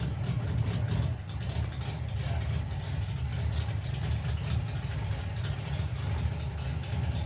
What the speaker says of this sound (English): Just purging the nitrous.